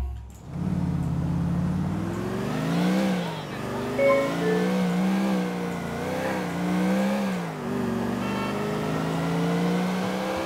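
A car engine revs in Grand Theft Auto IV, a steady game-engine drone with repeated pitch swells and dips as it accelerates and eases off, close and fairly loud with no speech over it.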